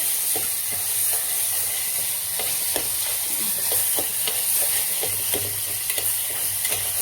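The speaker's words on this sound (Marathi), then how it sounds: "सगळं परतून घ्यायचं" Vegetables and drumstick pods frying and being stirred in a spiced oil tempering: continuous close sizzle with repeated spoon scrapes and clicks throughout, no talking.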